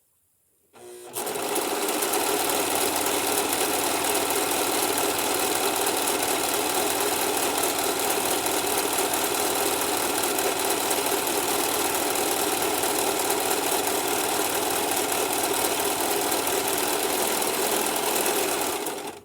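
A Singer Profinish serger sews along fabric edges with a steady, fast, close whirring hum that runs nearly unbroken from start to stop, no talk over it.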